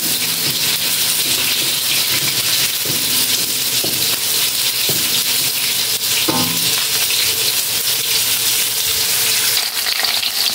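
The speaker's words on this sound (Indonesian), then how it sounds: "Ini goreng tahu sedikit" Tofu frying in a wok for a stir-fried bean sprout and tofu dish, a loud, constant close sizzle with a few clinks of a utensil, no talking.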